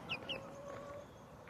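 A pet chicken gives two short, high clucks close by, followed by a faint sustained tone over quiet room noise.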